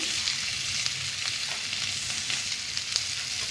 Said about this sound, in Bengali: এরপর আমি অল্প করে ভেজে নেব হালকা করে।